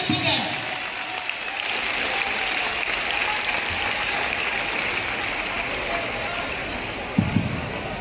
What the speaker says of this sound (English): A big round of applause for the last time for all the children here.